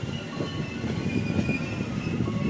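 A low, steady rumble of a goods train carrying lorries rolling past nearby, with a continuous rattling drone and faint high metallic whine above it.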